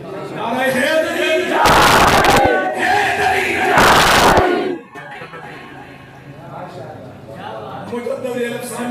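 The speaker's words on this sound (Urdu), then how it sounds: "حیدر حیدر کے نعرے علی علی کے نعرے لگوائے وہ بولو نا یار نعرہ حیدری" A crowd bursts into two loud religious chants of "Haidar Haidar" and "Ali Ali" in a Naara-e-Haidari call, each shout lasting a couple of seconds, followed by someone speaking.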